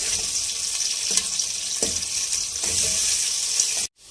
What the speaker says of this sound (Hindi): सबसे पहले अब हम इसमें प्याज डालेंगे। प्याज को हम गोल्डन ब्राउन करेंगे।